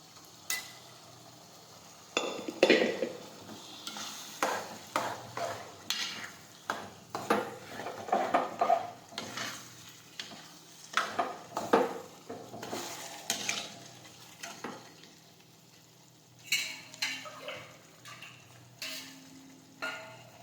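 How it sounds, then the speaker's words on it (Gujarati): Boiled urad dal tipped into a hot pan and stirred with a metal spoon, a soft sizzle under repeated scraping and clinking strokes against the pan, irregular and close, with quiet pauses between bursts. "હવે આપણે બાફેલા આડદ નાખીશું"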